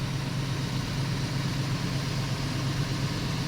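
A car engine on its original exhaust idles steadily with a low, even rumble, moderately quiet and unchanging, with no voices.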